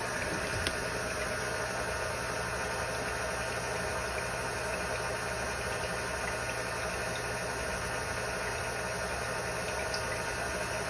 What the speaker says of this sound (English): So I will just blend this together a bit using the paddle attachment.